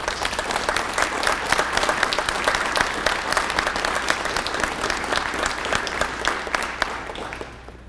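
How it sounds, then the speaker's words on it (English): Audience at a high school JROTC awards and change of command ceremony applauding officers and award winners, a loud, sustained burst of many hands clapping that tapers off at the very end. "Let's give our national organization officers and these award winners a round of applause"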